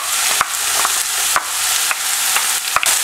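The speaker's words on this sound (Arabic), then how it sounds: "حطيت شويه زيت يسخن وتوا باش نضيف عليه البصل" Onion tossed into hot oil for Tunisian stuffed peppers fries with a loud, close, continuous crackling sizzle, punctuated by regular sharp clicks of a utensil against the pan roughly every half second.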